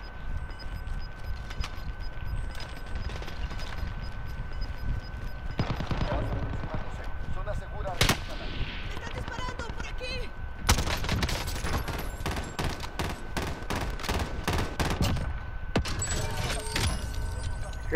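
Gunfire from a video game shooter in a resurgence mode match, rapid bursts of weapon shots crackling close and loud over game ambience, with someone talking in between.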